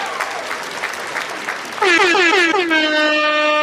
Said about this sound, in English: Let me give everybody a round of applause right now.